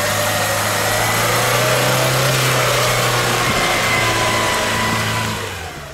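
Off-road car on Matador MP72 Izzarda A/T2 tyres revving hard through mud on an uphill stretch, a loud, steady, strained engine roar held close for several seconds before easing off slightly.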